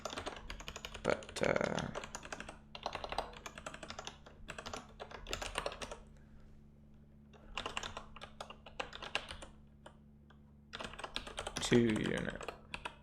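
Computer keyboard typing while writing Ruby code for RuboCop linting, in bursts of quick clicky keystrokes with pauses between, close and fairly quiet, with someone talking briefly in places.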